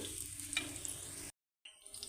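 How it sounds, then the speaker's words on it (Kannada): Spices sizzle steadily as they are tempered in a pan already used to roast sambar powder ingredients, a quiet close crackle broken by a brief silent pause before it resumes. "ಅದೇ ಬಾಣಲಿಯಲ್ಲಿ ಒಗ್ಗರಣೆ ಹಾಕೋತಾ ಇದ್ದೀನಿ"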